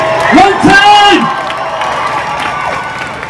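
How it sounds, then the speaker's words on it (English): Crowd at a pro-Palestinian street protest in Leeds cheering, whooping and clapping loudly, with raised voices shouting over the noise before it thins into a steadier murmur. "Give yourselves a round of applause, everybody."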